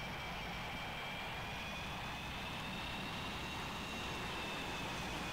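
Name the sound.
jet aircraft taxiing on runway in Strike Fighters 2 video game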